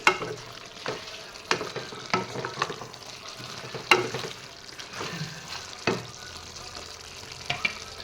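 Chicken curry with potatoes and tomatoes being stirred in a pan: scraping spoon strokes and wet shuffling come in irregular bursts over a steady low simmer, fairly close, with no talking.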